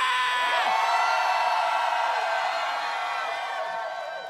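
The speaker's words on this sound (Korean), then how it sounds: "다시 한 번 더 함성 퍼포!" A studio audience at a Korean singing show roars with loud, sustained cheering and shrieks after a group performance, a dense wall of crowd noise that slowly fades.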